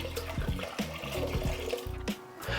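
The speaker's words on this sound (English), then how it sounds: "you can take a saucepan and we'll pour the wine into the pan." Red wine pours into a saucepan for mulled wine, a continuous splashing, gurgling flow of liquid heard up close for a couple of seconds with no talking.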